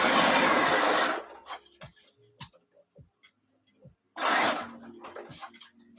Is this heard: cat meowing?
no